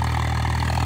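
A Swaraj 855 FE tractor engine runs at a loud, steady, deep throb, close by, during harrow work in hard soil.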